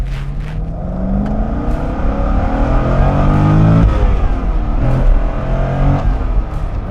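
A 2006 Corvette engine revs up steadily from idle, pitch climbing to a high wail near the rev limiter and then dropping back, loud and close throughout.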